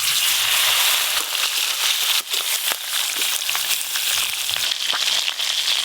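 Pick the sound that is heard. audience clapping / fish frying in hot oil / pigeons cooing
fish frying in hot oil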